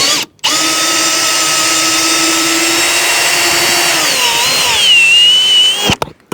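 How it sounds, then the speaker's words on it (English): A power drill runs steadily for about six seconds while boring a hole to route a doorbell camera wire, loud and close, its whine dropping in pitch near the end before it stops. "I'm going to pull the drill out and I'll run the wire."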